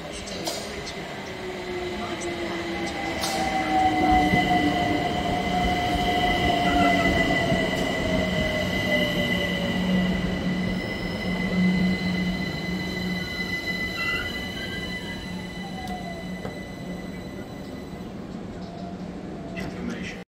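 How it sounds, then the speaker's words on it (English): A London Overground train on the District Line towards Richmond runs steadily with a constant rumble, drawn-out wheel squeals and a faint announcement voice in the background. "London Overground service to Richmond."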